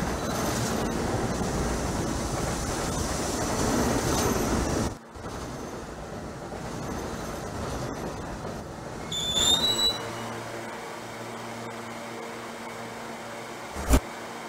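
A New York City subway A Express train runs in the Trainz Simulator 2012 game, giving a steady rumbling roar that drops out briefly, then resumes, with a short squeal and a sharp clunk near the end.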